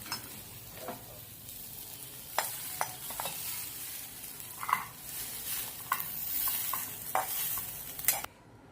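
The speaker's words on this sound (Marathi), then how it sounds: "आपली गवार ही छान परतून झालेली आहे" Cluster beans (guar) stir-fried in a pan, a soft steady sizzle with scattered scraping clicks of a spatula stirring, close and alone with no talk.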